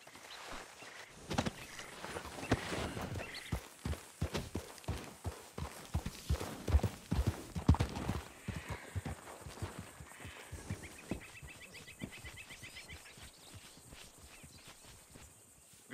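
Horse hooves clip-clop on ground in Red Dead Redemption 2, a steady series of close, distinct hoofbeats that slows and softens toward the end.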